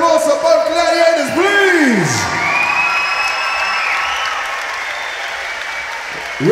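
Loud arena crowd applauding and cheering both fighters at a Shinobi combat event, dense clapping and whoops filling the space while a voice calls out over it, with a sweeping tonal effect at the start.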